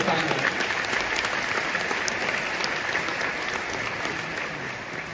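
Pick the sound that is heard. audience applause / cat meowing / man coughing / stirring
audience applause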